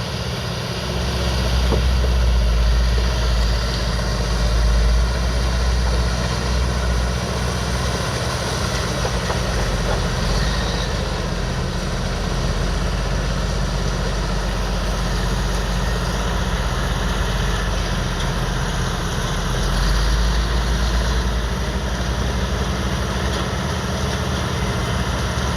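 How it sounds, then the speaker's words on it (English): A late model Komatsu mining machine runs steadily at a West Coast gold mine, its engine giving a constant deep rumble with a low throb that holds at a fairly loud, even level for the whole stretch. "This one here is a late model Komatsu."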